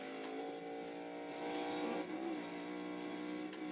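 A racing car engine in a video game holds a high, sustained whine with slight pitch shifts and a faint tire squeal, steady and loud with no talking.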